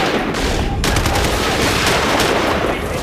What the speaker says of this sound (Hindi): अचानक फायरिंग शुरू हो गई।